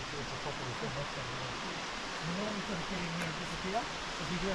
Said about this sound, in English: wander this beautiful waterfall